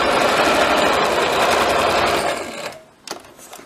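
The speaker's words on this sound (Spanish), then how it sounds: "Oprimes esta pieza la máquina te cose para adelante y para atrás." A sewing machine runs a continuous fast stitching whir while closing the side seam of a shirt, then stops near the end with a brief clack, close and loud with no talking.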